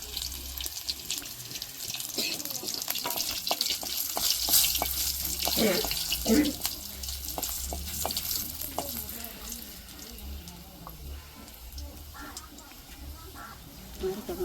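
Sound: garlic frying in oil for taro leaf curry

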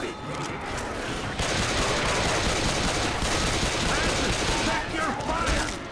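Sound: gunfire in Left 4 Dead 2 video game

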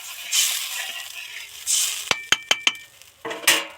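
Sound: stirring fish curry in pan after adding water

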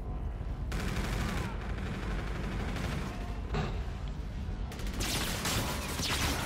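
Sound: gunfire in a video game

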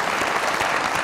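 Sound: studio audience applause

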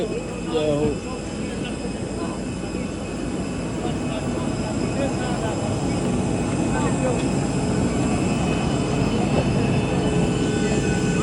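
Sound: airplane landing in Cyprus

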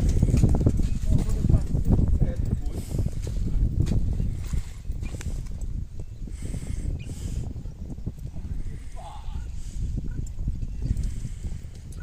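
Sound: horse hooves walking on the track during training

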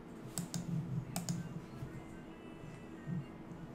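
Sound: typing on a computer keyboard

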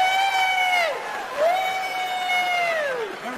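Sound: audience applause and cheering

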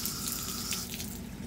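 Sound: rinsing tower garden part under running tap water

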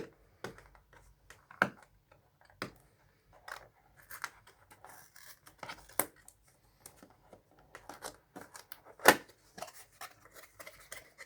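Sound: opening the box of a hair clipper

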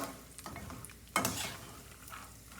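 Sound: peanuts and lentils frying and stirred in oil

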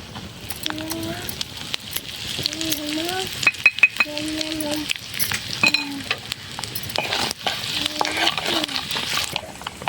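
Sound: spices sizzling in hot oil

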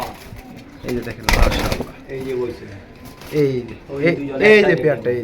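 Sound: pigeons cooing in a cage

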